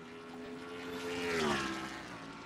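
Race car engine of the Texaco Haviland Ford on a road course, droning steadily and swelling louder as it nears mid-clip, a sustained tonal roar with a slight pitch bend before easing off.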